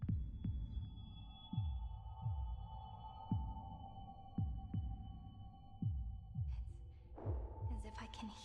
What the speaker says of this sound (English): can hear the sound of my heart beating